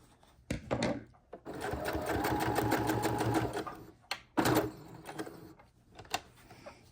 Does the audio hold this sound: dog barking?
no